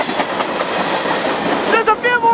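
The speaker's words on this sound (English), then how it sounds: "And here comes the end of the train!" The tail end of a CSX freight train led by BNSF and Citirail locomotives rolls past close by. Cars clatter steadily, and a few squeaky tones come in near the end.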